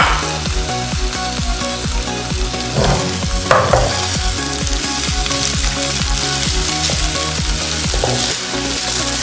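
Boiled chicken pieces fry and get stirred in a pan, a loud steady sizzle punctuated by rhythmic scraping strokes of a spatula, repeating roughly every half second.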